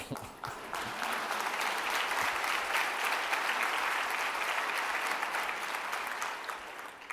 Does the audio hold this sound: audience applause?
yes